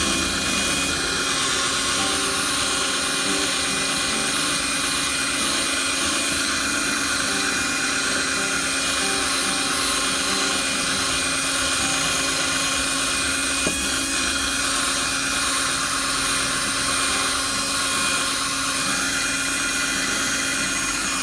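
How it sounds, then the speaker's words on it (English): A slow drill polishing a plastic car headlight drones on with steady, loud mechanical whirring without pause, spinning continuously with a constant buzzing hum. "The thing about this slow and steady drill is that it's not going to hurt other plastics"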